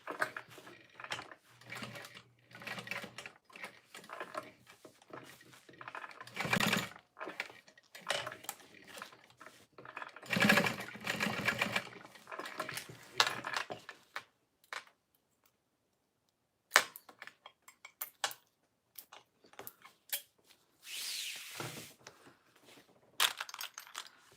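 A sewing machine runs in short, irregular bursts of rapid clatter while box-stitching a tote bag, stopping and restarting with quiet gaps between runs.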